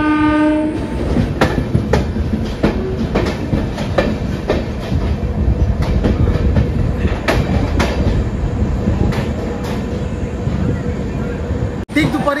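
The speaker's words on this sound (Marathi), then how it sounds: "पुन्हा एकदा आपल्या रेल्वेने मार्ग बदलला मेन सेंट्रल लाईन पासून थेट पनवेलच्या दिशेने" The Bandra-Madgaon passenger train runs along the line, its horn blaring at the start and wheels clattering in a steady clickety-clack rhythm, loud and close from inside the moving train.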